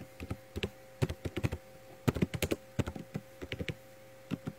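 Computer keyboard typing, close and clear: quick irregular runs of key clicks with short pauses between bursts, over a faint steady electrical hum, with no voices.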